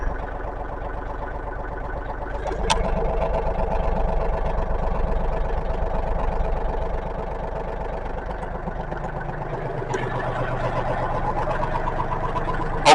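An RK37 compact tractor with its loader raised idles close by, a steady low diesel rumble with a rapid even pulse, briefly rising in level midway and holding constant to the end.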